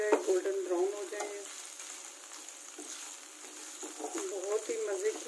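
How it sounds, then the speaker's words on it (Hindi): Chicken and mushrooms fry in a pan with a soft, steady sizzle and stirring, heard under a person talking near the start and again toward the end. "इसको हमने 5 से 7 मिनट तक हमने इनको फ्राई करना है।"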